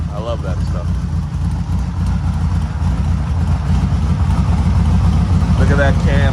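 Air-cooled engine of a 1972 VW Super Beetle idling loudly and close, with a lumpy, rhythmic cam-driven bounce that runs unbroken throughout, with a brief voice heard faintly over it.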